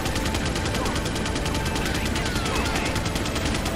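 An enemy shooting in the video game Resident Evil 4: a continuous, loud, dense rattle of rapid gunfire that runs throughout without pause.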